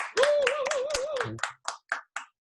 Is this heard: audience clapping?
yes